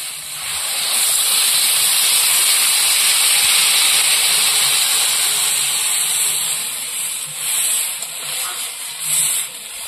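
Water is poured into a hot pan of chili-spiced fish curry with green banana. A loud, broad sizzle and hiss carries steadily through, then gradually eases and becomes more uneven, with no talking.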